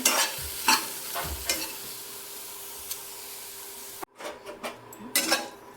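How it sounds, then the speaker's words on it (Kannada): Bitter gourd fries in oil in a pan with a steady, close hiss of sizzling. A spatula scrapes through it several times, then the sound cuts abruptly and quieter stirring scrapes continue. "ಹಾಗಲಕಾಯಿನ ಎಣ್ಣೆ ಹಾಕ್ಲಾರ್ದಂಗೆ ಚೆನ್ನಾಗಿ ಫ್ರೈ ಮಾಡ್ಕೋಬೇಕಿದೆ"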